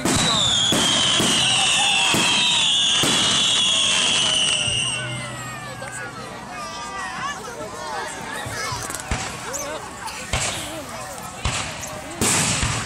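Fourth of July fireworks bursting over Lake Sara in rural Illinois, a rapid string of loud cracks and booms that thins into scattered pops and crackling, with whistling fizz early on and a crowd talking in the background.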